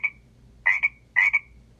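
A frog croaks close and clear in a quiet setting: one short call, then two paired double croaks with bright nasal tones and brief silences between.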